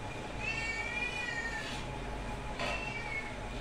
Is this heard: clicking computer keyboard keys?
no